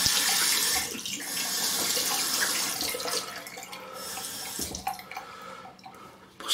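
Tap water runs steadily into a sink to rinse it down, a continuous close broadband rush that dips slightly around the middle and fades near the end, with no talking over it.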